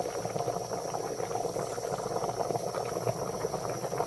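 A pot of rice with a pandan leaf bubbles at a steady boil, a continuous soft burbling and popping heard up close, with no one talking.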